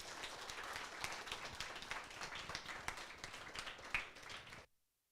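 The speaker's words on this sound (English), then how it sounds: "Let's invite him with a huge round of applause" An audience at a school career guidance event in Chennai claps loudly to welcome a guest speaker, a dense sustained round of applause that cuts off abruptly near the end.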